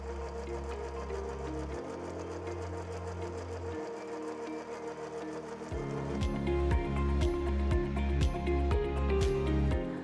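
A sewing machine stitching a rope basket: a low steady motor hum with a pause around two to six seconds, then louder rhythmic stitching with repeated thumping needle strokes, close and alone.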